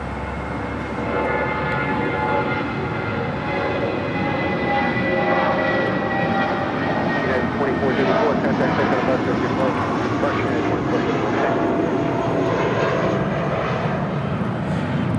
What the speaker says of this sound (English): This is SAS Flight 931 coming in from Copenhagen on the A350-900.